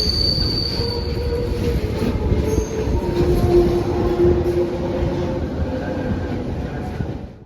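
An interurban train in Rome rolls along the rails close by with a steady rumble and high metallic wheel squeal, fading out at the end.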